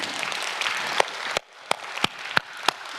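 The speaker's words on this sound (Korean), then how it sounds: "우리 말씀 주신 우리 주님께 영광의 박수를 올려드립니다." Congregation applauding during a church worship service: a dense wash of clapping that thins out midway into a handful of separate, sharp claps, with no talking.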